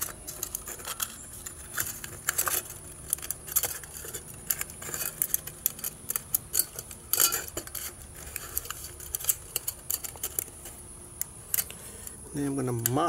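Scissors snipping through a thin aluminum Coke can for a homemade alcohol stove, a run of close metallic clicks and crinkles repeating irregularly, with a voice briefly at the end.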